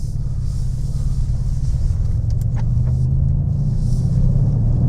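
Mercedes-AMG car driving on a snowy road, heard from inside as a steady, loud low engine and road rumble with faint higher hiss and a few light ticks, no talking.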